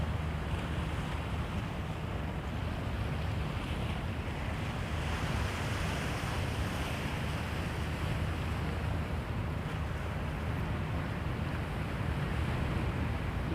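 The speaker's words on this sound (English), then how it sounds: "Can you hear the waves? Hear the waves crashing?" Waves wash steadily onto the shore near Michigan's Blue Water Bridge, a continuous close roar of surf mixed with wind buffeting the microphone, with no talking.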